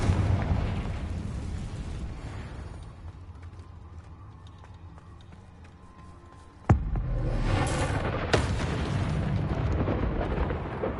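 Confringo spell explosions in Hogwarts Legacy: a rumbling blast fades out, then a sharp loud crack erupts into a dense roaring burst, followed by a second crack within the ongoing rumble.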